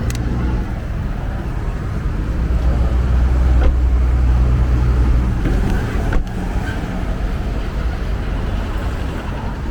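Inside a car on an Uber ride through Santa Cruz de la Sierra, Bolivia, loud steady road and engine rumble fills the cabin, with a couple of brief bumps along the way.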